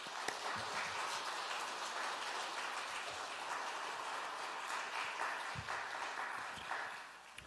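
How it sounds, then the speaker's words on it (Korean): A church congregation claps to welcome the pastor, a continuous crowd applause that holds steady through the clip and tapers slightly at the end, with no speech. "환영의 박수와 하나님께 드리는 박수 같이 환영하겠습니다"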